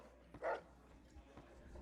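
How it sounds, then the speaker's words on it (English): Dog in the video game Fallout New Vegas giving a single short bark, faint and brief over quiet game ambience. "It's a cute little dog."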